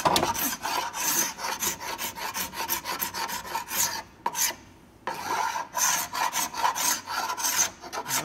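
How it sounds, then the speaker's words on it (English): Steady rasping scrapes of a sharp-bladed scraper taking excess dried glue off a wooden blanket chest, a continuous run of strokes broken by a brief pause near the middle, close and fairly loud. "Notice that scraper's taken off a good amount of material."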